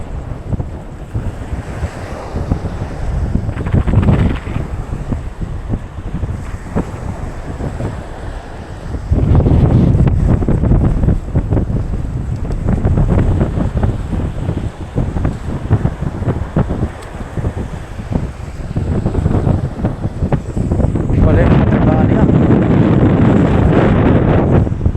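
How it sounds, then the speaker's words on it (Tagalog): Strong wind buffets a small fishing boat at sea, roaring steadily into the microphone with waves and surf washing around the hull, loud and continuous throughout. "Ang lakas ng hangin niya mga katuks."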